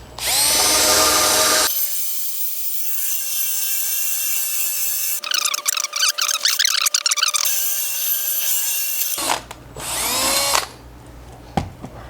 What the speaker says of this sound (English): I have it on just normal drill setting.